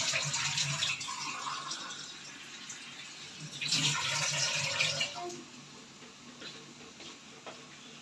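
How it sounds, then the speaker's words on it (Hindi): Water pours steadily into a cooking pot of turnips and spice paste for a Pakistani dish, a continuous close splashing rush that swells midway and then eases off. "अब हम इसके अंदर डालते हैं पानी।"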